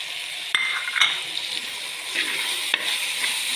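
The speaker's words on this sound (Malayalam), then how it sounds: "ഇതൊന്ന് ചെറിയ രീതിയിലൊന്ന് വഴറ്റിയാൽ മതി." Tomato and onion sauté in a pan with chili and turmeric powder, giving a steady sizzle broken by a few sharp clinks of a utensil stirring against the metal.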